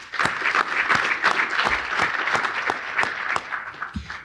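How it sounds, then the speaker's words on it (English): Conference audience at a business and industry environmental event applauds the sponsors, a fairly close room of steady, moderate clapping lasting several seconds and tapering at the end. "Let's give them a round of applause as well."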